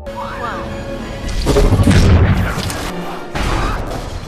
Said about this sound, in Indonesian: Ledakan yang terjadi menyebabkan runtuhnya struktur bangunan